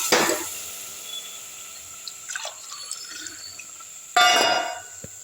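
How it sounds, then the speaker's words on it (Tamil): Two tumblers of water splash into a cooking pot in short pours, with a quieter trickle between and a louder gush near the end, plus faint clinks. "நல்லா ஒரு ரெண்டு டம்ளர் தண்ணி ஊற்றிக்கலாம்"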